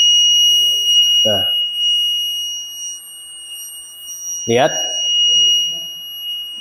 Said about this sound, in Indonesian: 2 buzzer sekaligus bisa dihidupkan dengan breadboard.